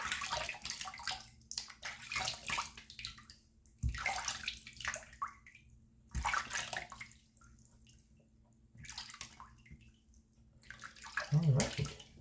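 A razor is rinsed under running water, splashing and gurgling in several bursts of a few seconds each with short quiet gaps, close but fairly soft.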